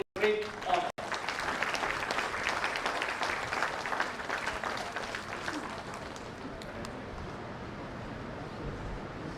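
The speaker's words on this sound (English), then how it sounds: "let us together applaud Sir Rozario for his dedication" Applause for Sir Rozario at a formal ceremony, a dense burst of clapping from a large audience that begins after a brief voice, holds strong, then slowly thins out.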